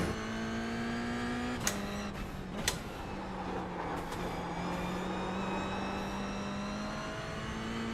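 A Mazda MX-5 race car engine in a racing video game holds a steady droning tone at moderate level, with a couple of sharp clicks and a slight pitch dip midway.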